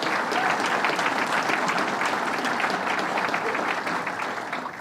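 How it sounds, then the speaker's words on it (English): A crowd at a state fair event applauds a speaker, a dense, steady clapping that runs loud for several seconds before beginning to taper off, with no talk over it. "So let's give him a big round of applause."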